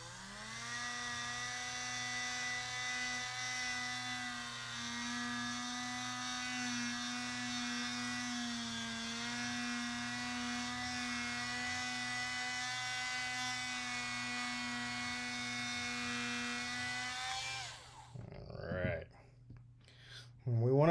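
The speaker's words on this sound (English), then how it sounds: "So we'll just drill in a little more." A power drill whines steadily for about eighteen seconds, enlarging a hole in the elbow joint of a Mezco Green Arrow action figure, a close, high buzzing tone that stops abruptly, followed by a few handling noises.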